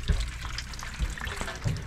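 Water pours steadily through a ceiling from a leaking bathroom shower drain, a continuous splashing, trickling rush heard close with a few low thumps of drops landing.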